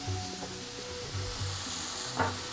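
A mushroom egusi sauce sizzles loudly in a pot while a spoon stirs it, a steady close frying hiss broken by a few scraping knocks, with no talk.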